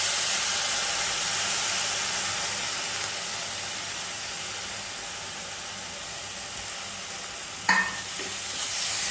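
Broken rice being stirred and fried in a hot pan for upma gives a steady, close sizzling hiss throughout, with a brief metallic clink of the spoon near the end.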